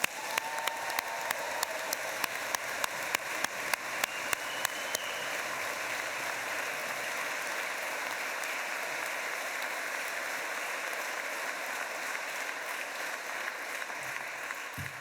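Sustained audience applause at a university ceremony, a steady wash of clapping that sounds hiss-like and rain-like, with some sharper individual claps standing out near the start before settling into an even, moderately distant roar.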